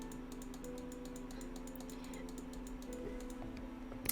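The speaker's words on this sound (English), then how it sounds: "Sorry about the clicking noises." Computer keyboard keys clicking in a steady, fast run of light taps, faint and close, over a low constant hum with no talking.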